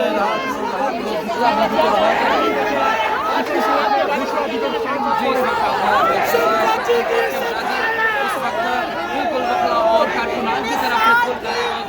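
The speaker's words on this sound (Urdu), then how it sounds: "یہ عدالت کے باہر نعرے لگ رہے ہیں" Crowd outside a courthouse raising political slogans in support of Imran Khan, a dense, continuous roar of many voices chanting and shouting together, loud and steady throughout.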